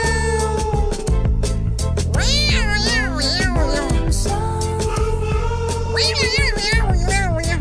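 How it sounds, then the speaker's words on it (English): A cat meows repeatedly with rising and falling wavering cries over continuous music, the calls scattered through the clip and fairly prominent. "Started thinking about the cat sound."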